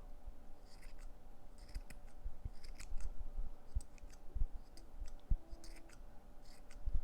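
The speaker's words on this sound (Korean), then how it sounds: "가위가 잘 안 되네요." Scissors snip repeatedly at stray yarn ends while a knitted winter hat made from Daiso yarn is trimmed round, a close series of sharp, uneven crisp cuts with short pauses, and no talking.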